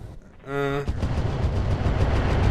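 Artillery fire in a sci-fi mech combat video game: a short rising tone gives way to a loud, sustained booming rumble that rolls on to the end with no talking.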